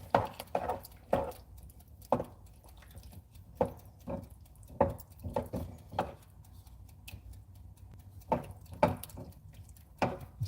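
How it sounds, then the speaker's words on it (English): A utensil scrapes and taps in a pan of chili sauce as it is stirred, making irregular close clicks and knocks with short quiet pauses between strokes. "And I need to stir this."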